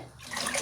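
Water pouring into a cooking pan of browned onions during Tamil home cooking, a short splashing rush that builds over under a second, alone.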